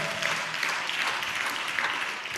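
A church congregation claps steadily along with praise. The clapping is fairly dense, even and moderately loud from a crowd, with faint voices mixed in beneath it.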